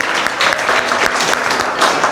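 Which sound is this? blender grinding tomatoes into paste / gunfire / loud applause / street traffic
loud applause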